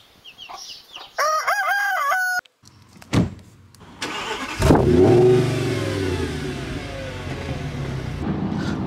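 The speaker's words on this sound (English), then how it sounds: "Right, we're in the car now." A car engine turns over and revs early on a Sunday morning near dawn. A rooster crows beforehand, then the motor settles into a steady, fairly loud drone with no one speaking.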